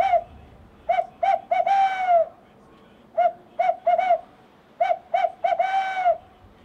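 A small reeded owl hooter, hand-made of wood such as cherry or walnut, blown to imitate a barred owl's 'who cooks for you' call: two loud phrases of short hoots ending in a drawn-out falling note, close and alone.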